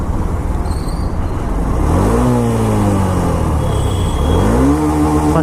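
A Honda SP 125 motorcycle sits on its stand in first gear while the engine revs up in two rising sweeps, the pitch climbing and holding in a steady, close, loud whine.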